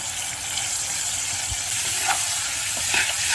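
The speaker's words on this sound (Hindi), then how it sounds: "अब इसको पूरा मज़ा से पकने देते हैं" Chopped tomatoes with salt and turmeric sizzle steadily in a pan, a continuous close hiss broken by a few soft stirring taps.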